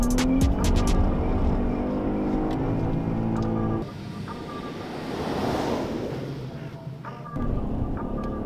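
A Jeep Grand Cherokee on Michelin tyres accelerates in sport mode, its engine and road noise loud and rising from inside the cabin, then easing off before picking up again, with wind rushing throughout.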